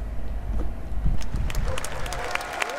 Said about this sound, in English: That roaring cheer says it all